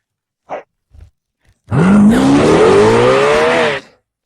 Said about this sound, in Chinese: 接下来，我将让你看看什么才是顶级赛车的加速。